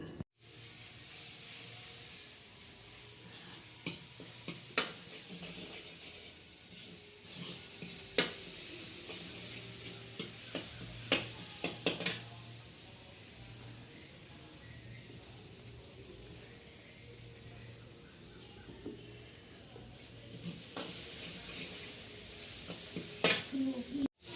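Masala fries on a traditional clay stove in a hot summer kitchen, giving a continuous sizzle with scattered sharp clicks and knocks of stirring, fairly faint and steady, with no talking.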